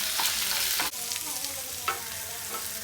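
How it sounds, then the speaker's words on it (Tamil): Onions and green chillies sautéing in hot oil give a loud, dense, continuous sizzle close by, broken by a sharp scrape and a few stirring knocks. "வெங்காயம் நல்லா வணங்கிடுச்சுங்க"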